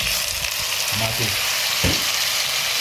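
Tomatoes sizzle and fry steadily in a hot pan, a constant loud hiss with a few clinks and stirring scrapes of a utensil partway through.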